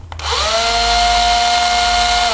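An electric drill spins up after a brief click and runs steadily, a loud continuous motor whine with a sustained tone throughout, alone with no voices.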